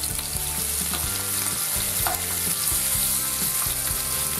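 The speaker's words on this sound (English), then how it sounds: "Put some butter in your frying pan, heat up your frying pan medium heat, colorize the rabbit" Rabbit pieces browning in butter in a frying pan over medium heat for a French bistro braise, giving a steady loud sizzle with repeated scraping and stirring strokes throughout, no voices.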